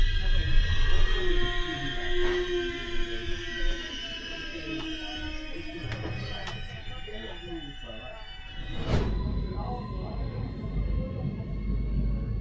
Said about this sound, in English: these screeches of our train coming to a stop